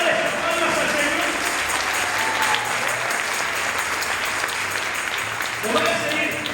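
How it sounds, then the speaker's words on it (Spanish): A church congregation claps for the Lord during a sermon, a dense, steady wash of hands lasting several seconds, loud and close, with voices and some tonal music or singing running underneath. "¿Te quiere darle esas palmas al Señor?"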